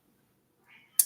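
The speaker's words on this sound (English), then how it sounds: "my cat's asking questions" A house cat gives a short, faint meow, followed by a sharper, louder burst at the very end of the brief quiet moment.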